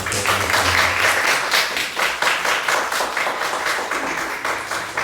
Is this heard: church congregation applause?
yes